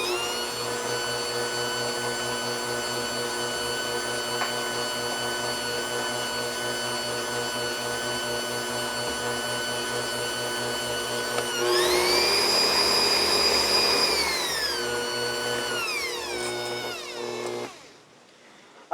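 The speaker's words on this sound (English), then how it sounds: "we're going to kind of mix that up together just to cream up that butter a little bit." An electric mixer creaming butter and sugar for an orange cake, a steady motor whine with a rhythmic beater pulse that rises in pitch for a few seconds, then slows and winds down to silence.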